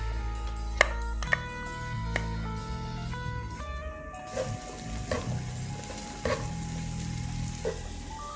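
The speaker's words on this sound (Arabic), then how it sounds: "وشوي من كمية الزبدة. بنضيف البصل المفروم،" Chopped onions drop into butter and oil in a pan and fry with a steady close sizzle, punctuated by sharp clinks and spoon stirring, over a quiet background tone.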